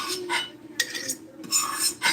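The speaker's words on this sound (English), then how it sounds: "Scrape some of the extra stuff out" Metal utensil scraping excess beef tallow out of a pan while making chicken cornbread, several short scrapes in bursts with pauses between, close and moderately loud.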